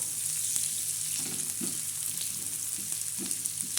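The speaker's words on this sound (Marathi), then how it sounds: "आता हा कांदा आपला भाजत आहे चांगला" Onion and masala for a black masala chicken curry fry steadily in a pan, a continuous close sizzle broken by a few soft stirring scrapes, with no talking.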